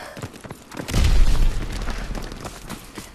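A grenade goes off in the Call of Duty: World War 2 shooter, one loud, close, deep boom with a rumbling tail amid ongoing gunfire and battle noise.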